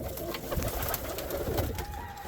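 Pigeons coo and murmur steadily in an open-bottomed flight loft in Juana Díaz, Ponce, Puerto Rico, a low continuous chorus of several birds heard close with no talking.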